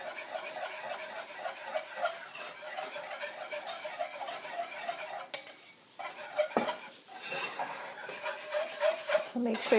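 A whisk beats eggs in a bowl while a little liquid is added gradually for a pumpkin pie filling. Rapid, quiet metallic scraping and tapping runs under a person talking, with a brief pause partway.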